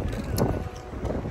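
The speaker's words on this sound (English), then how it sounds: "It's really windy out here today" Strong outdoor wind buffets the microphone in a steady, loud low rumble with gusty swells, with no other clear sound for just over a second.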